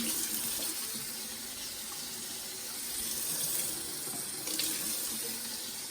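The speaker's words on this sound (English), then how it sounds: "So we will sort of add some water then to help cool that off a bit more." Water running from a tap and poured into a pot of dissolved sugar for nian gao, a steady soft hiss and trickle that swells slightly midway, heard alone without speech.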